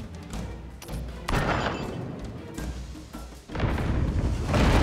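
Ship cannons fire in a naval battle in the game Abandon Ship, a run of heavy booms and thuds one after another, loud and close with no talk.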